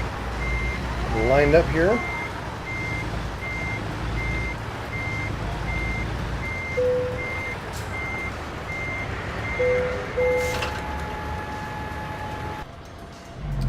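Reversing beeps from a truck with a long trailer backing up in American Truck Simulator, a regular electronic beep pulsing over a low diesel rumble, with someone talking briefly near the start and an air-brake hiss near the end.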